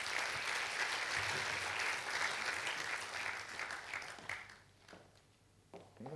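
An audience at a commemorative anniversary lecture gives a warm round of applause to welcome the guest of honor, steady and full for several seconds before thinning out into scattered last claps.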